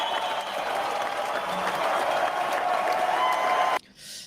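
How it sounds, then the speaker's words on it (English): Steady applause from a crowd, dense clapping that holds evenly for a few seconds and then cuts off abruptly. "Let's give him a big round of applause,"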